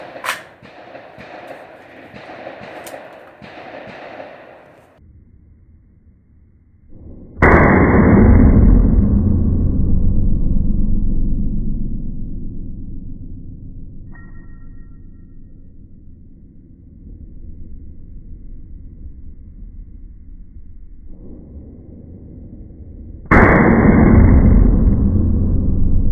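Rifle fired with no muzzle device, two loud, sharp shots spaced well apart, each followed by a long booming outdoor decay, with some faint handling noise before them.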